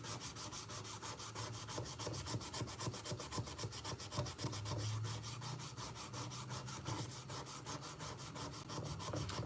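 Sandpaper, around 400 grit, rubbed back and forth across a carbon steel knife blade during restoration, a close, rapid, rhythmic scratching in even strokes that continues steadily.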